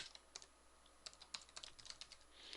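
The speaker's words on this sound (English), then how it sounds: "I was typing and I was looking at my keyboard because I got a weird keyboard right now." Fingers type on a computer keyboard in quick, uneven bursts of crisp clicks, close by and soft, with no one speaking.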